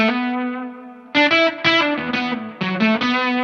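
An electric guitar played through a DanDrive fuzz pedal: a long fuzzy sustained note, then a series of choppy distorted chord stabs with a thick, buzzing tone, loud and close with no voices.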